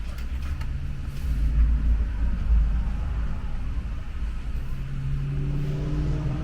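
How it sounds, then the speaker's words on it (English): Cars pass by outdoors beside a wildflower meadow, a continuous low road rumble that swells and fades as vehicles go by at moderate distance, with no talking. "There's the noisy cars."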